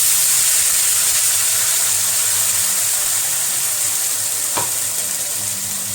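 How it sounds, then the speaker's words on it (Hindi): Spice masala paste dropped into hot oil for stuffed bitter gourd (bharwa karela), a loud, steady broadband sizzle and hiss close up, with a brief scrape of stirring partway through. "अभी इसमें अपना ये मसाला डाल देंगे तेल गरम।"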